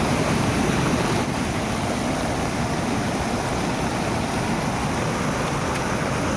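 Spring water swollen by heavy rain rushes hard and spills toward a road, a loud, dense, unbroken roar of flowing water close by, with no talking.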